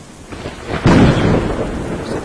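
A loud thunderclap in the Slender mansion game breaks suddenly over rain and then rumbles on and slowly decays, with no voices.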